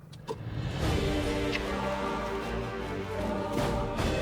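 A car idles steadily with a low engine rumble, a brief higher whir rising over it partway through, the vehicle slowing and coming to rest; no talking.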